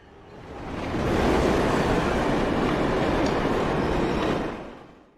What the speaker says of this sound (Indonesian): seketika ada kereta lewat